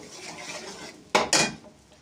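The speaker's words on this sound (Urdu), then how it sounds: "پیاز جو ہیں وہ ہم لوگوں نے لائٹ براؤن کرنے ہیں۔" Onions being stirred in a pot to brown them, a quiet low background sizzle followed by two sharp metallic scrapes of a utensil against the pot.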